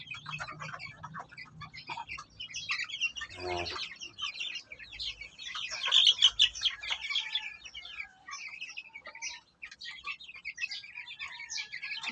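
Chicks peep and cluck in a small backyard brood, a dense run of high chirps throughout with a louder burst of calls midway; no talking.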